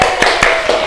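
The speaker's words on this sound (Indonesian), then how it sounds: "Tepuk tangan juga untuk kelompoknya Mbak Alvina dan Mbak Fajri." Classroom applause for a student group after an Islamic religious education presentation, a few loud sharp claps close by in quick irregular succession.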